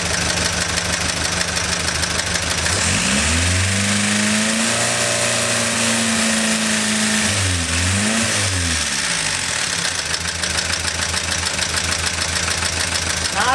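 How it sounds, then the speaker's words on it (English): A car engine fitted with a Crosley generator idles close by, then revs up once, its pitch climbing and falling back before settling to idle again. It is loud and steady throughout, with no speech. "I'm going to rev it up and see what it does."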